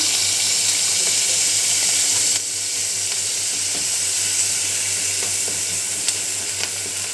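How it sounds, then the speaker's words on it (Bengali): Salt and ginger-cumin paste go into a pan of capsicum and onion, raising a loud, steady hiss of frying that drops slightly in intensity partway through, with faint stirring clicks and no speech. "হালকা নুন দিয়ে দিচ্ছি, একটু আদা জিরার পেস্ট আছে দিয়ে দিচ্ছি"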